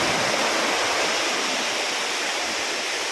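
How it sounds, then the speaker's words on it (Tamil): Water pours over a small waterfall at Sitraruvi, making a steady, dense rushing and splashing roar that fills the whole stretch evenly, close by, with no voices. "ரொம்ப சூப்பராக சிற்றறியில் தண்ணி இருக்கு"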